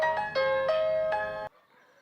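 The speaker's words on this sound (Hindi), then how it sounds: "किसका फोन है देखो?" A phone ringtone sounds in bright, tonal electronic bursts that repeat for about a second and a half, then cut off, leaving faint background.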